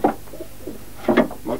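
Pigeons coo in a racing pigeon loft, with a few soft, throaty burbling calls close by in short bursts, separated by quiet gaps.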